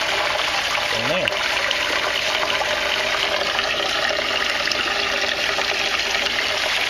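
Water pours steadily into an aquaponics tank holding baby tilapia, a dense, continuous rushing splash heard up close, with a voice speaking briefly over it.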